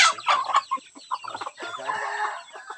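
Several Palawan native hens cluck close by on a farm in busy, overlapping bursts, with a rooster-like call mixed in and no talking.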